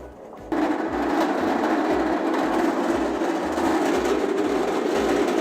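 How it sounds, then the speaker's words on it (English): Rollers of a grain processing machine running with a steady loud roar and a faint regular rhythmic thump, starting abruptly and continuing without pause, close up. "This adjusts our rollers, so we make the rollers really slack so that it's really easy for the grain to fall through."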